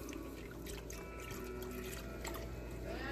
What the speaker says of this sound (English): Then you add milk.